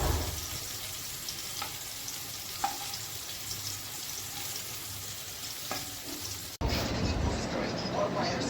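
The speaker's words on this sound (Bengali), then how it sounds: "একটুখানি ভেজে অল্প করে ভেজে রেখে দিয়ে যাই, পরে খাবার সময় আবার ভালো করে একদম ভেজে নেবো।" Vegetables are lightly frying in hot oil in a Bengali home kitchen at night, a steady close sizzle with occasional stirring clicks running throughout and briefly interrupted near the end.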